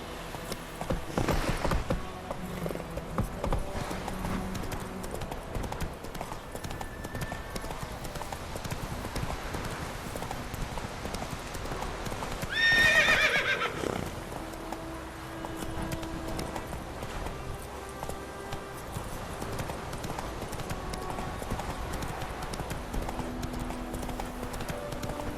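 Horse hooves clip-clop steadily in The Witcher 3, with a brief louder burst midway that may be a whinny, over constant game ambience.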